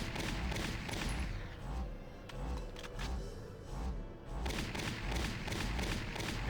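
Dense, continuous gunfire from a Valkyria Chronicles REDUX battle, with rapid overlapping shots and thuds sustained at a steady high level throughout, no talk.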